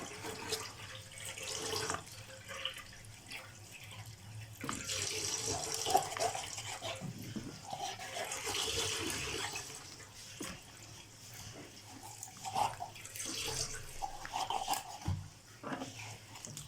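Raw chicken pieces are rinsed under a running kitchen tap, faint, continuous water flow with soft splashing that swells and eases, with no voices.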